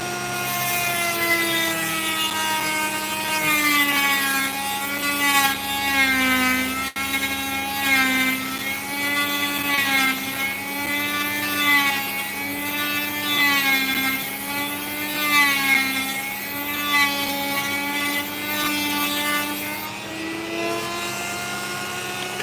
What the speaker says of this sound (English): So I'm going to cut along that plane, cut that wedge off.